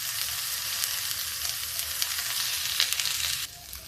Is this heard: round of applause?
no